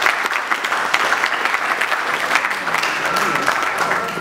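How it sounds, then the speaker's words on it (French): Sustained applause from an audience at a UDPS engineers' club political gathering, a dense, steady wash of many hands clapping throughout, fairly loud and continuous without pause. "Nous vous applaudissons et nous vous demandons de rejoindre les classes."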